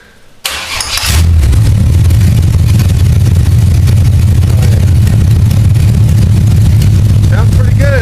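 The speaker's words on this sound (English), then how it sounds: "Sounds pretty good, running smooth." A rebuilt 350 Chevy V8 in a truck cranks and fires, then settles into a loud, steady, even-pulsed idle that carries on close by, with a brief voice heard faintly near the end.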